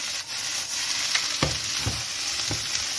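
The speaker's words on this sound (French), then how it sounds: "vous allez faire revenir vos lardons avec les champignons" Bacon lardons and mushrooms fry in a pan with a steady, close sizzle, broken by a few scraping stirs of the utensil.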